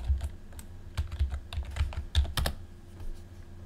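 Typing on a computer keyboard, with close, crisp key clicks in uneven quick bursts and short pauses, over a low steady hum.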